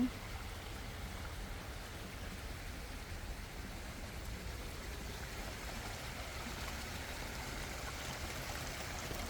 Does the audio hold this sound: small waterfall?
yes